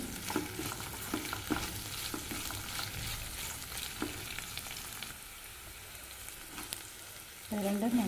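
Pirandai (adamant creeper) sautés with salt in a pan, giving a steady close sizzle and fry crackle with intermittent stirring scrapes, a louder burst of frying near the end.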